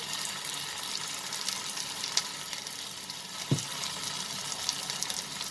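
Dry spices and turmeric powder sautéing in a pan for a prawn and potato curry, giving a steady soft sizzle with a faint thump of stirring midway; no talking.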